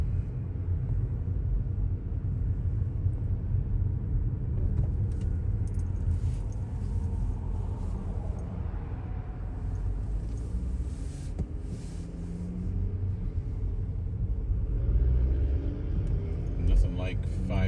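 Car driving slowly on a rough freeway during a commute, a constant low road and engine rumble throughout with a voice talking over it.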